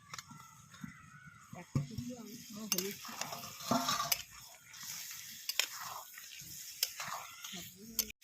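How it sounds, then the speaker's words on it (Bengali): Potatoes being stirred into a yogurt masala in a pan, with a soft sizzle, wet scraping and clinks of a spoon on metal, while a person talks intermittently over the cooking. "এবার শুধু নাড়বো"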